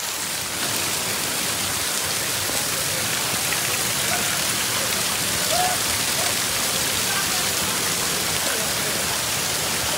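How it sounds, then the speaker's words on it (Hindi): A steady, loud wash of light rain falls near a waterfall, mixing with rushing water in one constant broadband hiss that lasts throughout with no pauses. "ये छोटे छोटे जो बारिश हो रही है ना"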